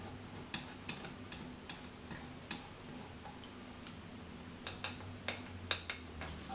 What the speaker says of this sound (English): I'm just going to take the end of the spoon here and give this a stir.